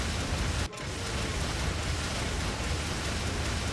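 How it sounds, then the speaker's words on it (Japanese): Artillery shells exploding on water in the Gangstar Vegas video game, heard as a steady, loud broadband roar and rush of spray that fills the clip, with one brief dip near the start. "ウォーターワールドとか水上の爆発ね、そんな感じ"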